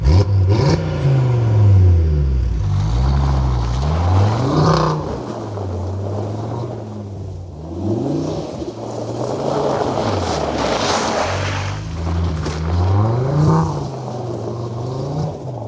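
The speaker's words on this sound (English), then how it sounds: "I can already hear the exhaust valve open up a little bit." An Audi RS3 engine with an ECS exhaust, valve open, revs up and down repeatedly with a loud, throaty exhaust note, the pitch sweeping up and settling back, with wind noise in the background.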